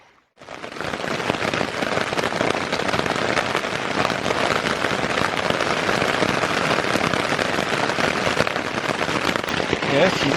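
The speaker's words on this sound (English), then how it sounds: "she's kind of raining out there" Heavy rain pouring steadily on a late-afternoon campsite in New England high country, a dense continuous hiss that stays loud from start to finish, with no clear thunder standing out.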